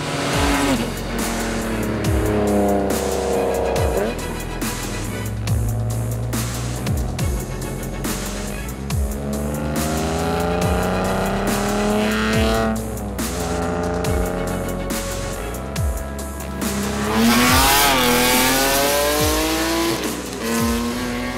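An E36 BMW, built from a 325 into near-M3 spec, revs hard and drives aggressively, its engine rising and falling through gear changes with bursts of tire squeal, loud and close, with no talk over it.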